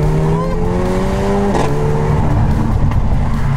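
A car driving through a tunnel with its windows down, the engine drone loud and boomy, revving in steady tones that shift as it accelerates, close and continuous.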